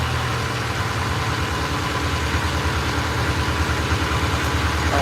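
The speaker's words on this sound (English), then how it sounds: "Let's turn the engine down a little bit so I can hear better." A cold boat's diesel engine idles steadily after being throttled down, a continuous low rumble with faint vibration holding close and even throughout, with no voices over it.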